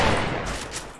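Gunfire in a first-person shooter video game landing a headshot: a dense burst of overlapping shots, loud and close, fading slightly over a second with no talk.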